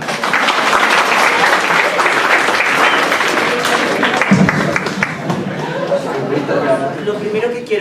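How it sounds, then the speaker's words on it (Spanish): Sustained applause from a conference audience welcoming a speaker, dense steady clapping with crowd chatter, loud and close throughout and easing slightly toward the end. "recibimos al doctor José Cordero con un aplauso."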